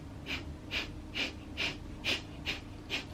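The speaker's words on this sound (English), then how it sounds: "So I'm breathing out, and as that breath kind of stops, a little bit of inhale comes in naturally." Someone performs a rapid nasal exhale breathing technique, seven sharp, evenly spaced breaths pushed out through the nose at roughly half-second intervals, close and distinct over low room noise.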